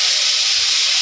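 A spice paste of turmeric, salt and chili powder fries in a hot pan, giving a steady, loud, bright hiss of sizzling oil with no pauses.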